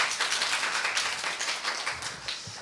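Dense audience applause following a presentation on the senior market, loud and steady throughout with many overlapping claps and no voices.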